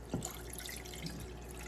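Cold bottled water poured into a pan in a home kitchen, a short faint splash and trickle lasting under two seconds.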